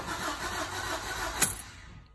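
The 1.3 diesel engine of a Peugeot Bipper van cranks steadily without catching, a fast, even whirring turnover that cuts off abruptly and fades to quiet.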